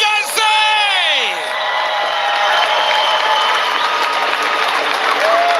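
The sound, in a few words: arena crowd applauding and cheering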